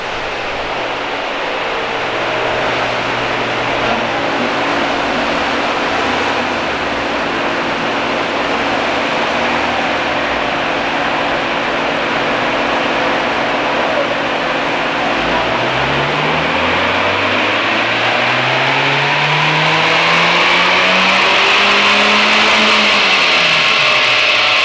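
A car engine on a dynamometer power run climbs steadily in pitch as it revs up, loud and continuous, with a whining roar building through the pull.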